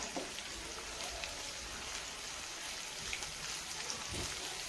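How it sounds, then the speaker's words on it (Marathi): Finely chopped green chillies and golden onions fry in oil for a spinach bhaji, giving off a soft, steady sizzle with faint crackles, quiet and uninterrupted. "आता इथं मिरची पण मी तेलामध्ये टाकून घेतलेली आहे"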